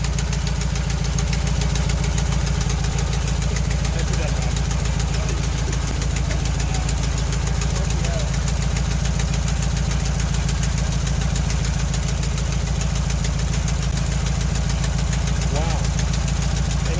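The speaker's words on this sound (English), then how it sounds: "Dude, it's idling nicely." A 1968 VW Bus engine idles after years of storage, a loud, steady, close air-cooled chugging that fills the whole clip, with excited voices faintly under it.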